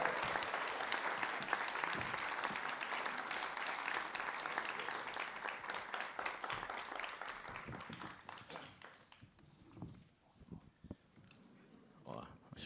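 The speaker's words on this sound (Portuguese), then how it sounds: "Vamos recebê-lo com uma salva de palmas." Audience at a talk in Brasília welcomes José Miguel Wisnik with sustained clapping from a crowd, dense at first, then thinning into scattered claps and fading toward the end.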